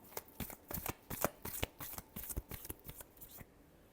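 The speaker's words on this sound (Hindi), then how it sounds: "Last shuffle." Tarot cards being shuffled by hand, a close, quiet run of quick papery riffles and slaps in an irregular rhythm, with no talk.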